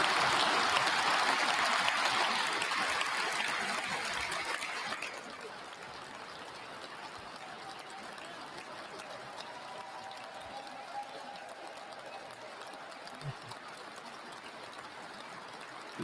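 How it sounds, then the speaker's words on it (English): A standing ovation at a presidential inauguration speech: loud, broad applause for about five seconds, then it drops away to a quieter room with faint background noise. "Look at everybody, the standing ovation for this."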